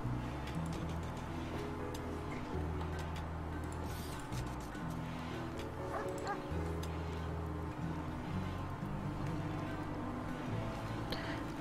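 Dogs barking in the colony-building video game Rimworld, short game-audio yips and woofs scattered over a steady background of game music and ambience, moderately loud.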